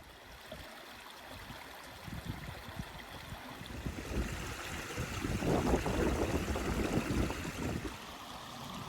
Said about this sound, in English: the brook meanders its way down